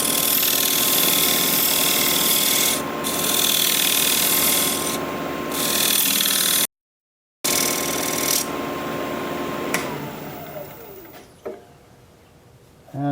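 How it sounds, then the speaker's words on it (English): Point tool cutting a dovetail tenon on a wooden bowl spinning on a lathe, a steady close scraping hiss with brief breaks, then the lathe winding down to quiet. "So I'm going to use my point tool, this kind of point tool"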